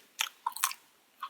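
Crunchy, salty popcorn is chewed close to the mic in three distinct crisp bites, sharp crackling crunches separated by brief quiet pauses, with no talking.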